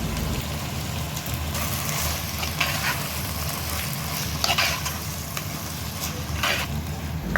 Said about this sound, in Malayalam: അതിലേക്ക് അരിഞ്ഞു വെച്ച സവാളയും തക്കാളിയും കൂടെ നന്നായി ചതച്ച ഇഞ്ചി വെളുത്തുള്ളിയും പച്ചമുളകും കൂടിയിട്ട് നന്നായിട്ടൊന്ന് വഴറ്റിയെടുക്കാം